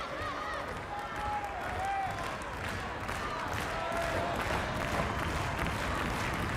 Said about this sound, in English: Tremendous crowd.